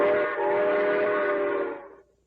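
A human voice imitates a train whistle with one sustained, wavering hooting tone that holds for about two seconds and then fades out, close and fairly loud.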